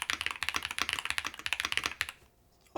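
Rapid steady clacking of a YUNZII AL65 mechanical keyboard with stock tuning on the spacebar, close and clear for about two seconds before stopping, with no talk.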